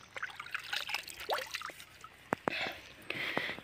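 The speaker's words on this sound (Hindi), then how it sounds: "खुद का साइकिल खुद को ही सफा करना पड़ता है, अच्छे से धोना पड़ता है।" Water splashing and trickling while a bicycle is washed by hand, with irregular drips, pours and short splashes close by and a few sharp knocks.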